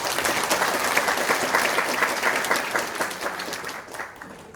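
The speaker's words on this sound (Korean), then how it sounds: "박수 한번 보내주시죠." At a Korean public forum on local autonomy law reform, an audience claps warmly and evenly, the dense applause staying strong before gradually thinning toward the end.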